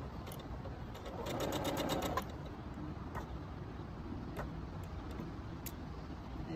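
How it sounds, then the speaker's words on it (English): Sewing machine stitching around the edge of fabric with the presser foot down, a steady mechanical whir that swells briefly then continues as a low hum with a few faint clicks. "you're going to sew around the edge and put the foot down"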